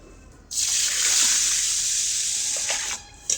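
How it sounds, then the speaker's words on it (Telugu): Water poured into a vessel holding about three kilograms of raw rice for arisalu, a strong steady gush that starts abruptly, runs for a few seconds, then tapers off with a small splash at the end. "నీళ్ళు ఇక్కడ పోస్తున్నా"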